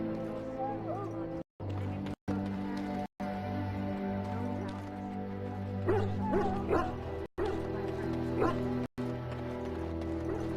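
Sick dogs in the fantasy game Dragon Age: Origins whimper and yip, their cries rising in short bursts over a steady game soundtrack with speech mixed in.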